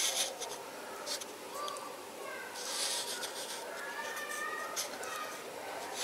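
A pen drags across paper in a freehand scribble, making short, faint scratchy strokes close by. Soft background sounds sit under the strokes.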